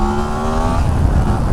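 A 2019 Yamaha MT10 SP motorcycle accelerating hard in riding mode A, engine note climbing as it pulls away, close and loud with strong low rumble and rising harmonics, no voices.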